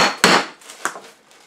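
An awl or punch driven through the pages of a handmade artist's journal, two crunchy, woody stabbing impacts close up, the first louder, followed by a fainter scrape.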